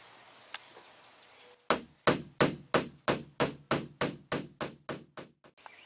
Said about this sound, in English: I'm gonna take my body hammer and I'm gonna tap on it